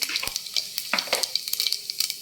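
Cumin seeds sizzle in about three spoonfuls of hot oil, a crisp, close crackle broken by sharp clinks and scrapes of a spoon stirring the pan, with no talking.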